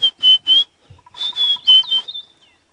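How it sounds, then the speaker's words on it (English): A white-browed scrub robin sings in an African morning: a run of clear, high, piping whistled phrases repeated in short bursts, loud and close, with faint softer notes between them. "It's a white-browed scrub robin you can hear going."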